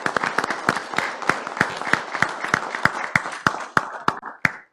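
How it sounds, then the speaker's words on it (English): Slow, rhythmic clapping at a city commission meeting, a dozen or so sharp, evenly spaced claps ringing in a reverberant hall, tapering off at the end. "Let's go ahead and give them a big round of applause for the great work that they're doing."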